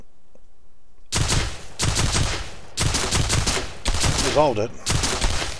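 MP40 submachine gun fire in a UE4 multiplayer game, several loud rapid bursts separated by short gaps, with a brief spoken remark.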